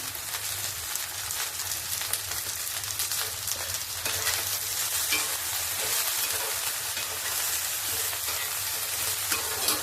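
Okra and chopped garlic frying lightly in a pan make a continuous, close hiss with fine crackling, steady and unbroken like light rain, with no voices over it.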